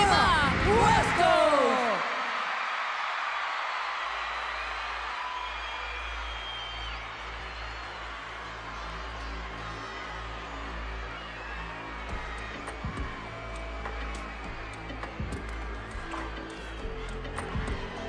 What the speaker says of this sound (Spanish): aplauso, mi querida Cecilia, es para Paulita y Polima Huesco.